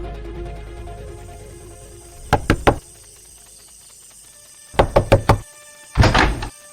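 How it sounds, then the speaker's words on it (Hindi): Knocking on a house door at night, in three separate bursts of three to four sharp raps each, loud and close, over a quiet background. "अब बाकी था तो बस रूबी के घर का दरवाजा खटखटाना।"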